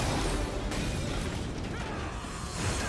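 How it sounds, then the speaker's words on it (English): A stock explosion effect from Metal Gear Solid 2 rumbles as a dense, loud, sustained blast with crackling debris, filling about three seconds without pause. "I like that stock explosion sound effect"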